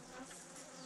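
Bees and bumblebees buzzing in a dense swarm around a nest near an outdoor stage, a continuous close, steady hum with no pauses throughout.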